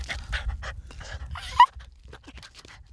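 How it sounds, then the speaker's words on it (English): A dog pants close by at Loch Sport in quick, breathy rhythmic puffs, with one brief high yip partway through. "Beautiful puppy dog. Good dog."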